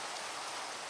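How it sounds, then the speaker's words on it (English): Rain in a video game, a dense, even hiss of falling drops, faint and continuous, with no other sound over it. "I don't remember it raining this much in Wittershins."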